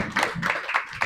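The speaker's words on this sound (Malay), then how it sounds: "Berikan tepukan kepada kawan kamu." A classroom of students clapping for their classmates, several sharp, irregular claps over about a second, close and fairly loud.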